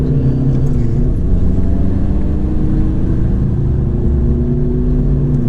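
A diesel SEAT Ateca accelerating hard from inside the cabin, a loud continuous low engine drone that climbs and resets as the gears shift, with no talk over it.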